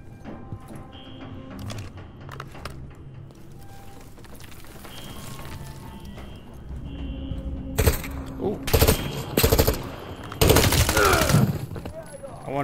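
Gunfire in Call of Duty: Modern Warfare 3 campaign, starting with quieter scattered shots under game ambience and building into loud, dense bursts of rapid fire toward the end.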